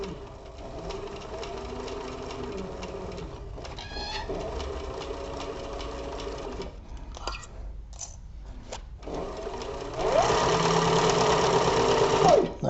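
A sewing machine stitches a leather crossbody bag in a close, steady mechanical whir, pausing briefly midway before running again louder and faster toward the end.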